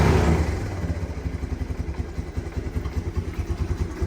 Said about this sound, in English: Let's see what happens when we throttle this thing up.